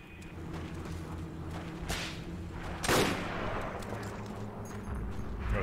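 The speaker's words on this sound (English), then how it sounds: "You're shooting at me with a pistol." Pistol shots in the Forgotten Hope 2 multiplayer shooter on the Mount Olympus map: a few sharp, fairly loud cracks ring out over a constant battlefield rumble and hiss, with one stronger report standing out in the middle.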